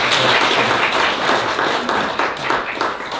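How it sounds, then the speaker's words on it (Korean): Loud, dense applause from a seminar audience, steady clapping throughout that tapers slightly toward the end. "다시 한번 좀 뜨거운 박수"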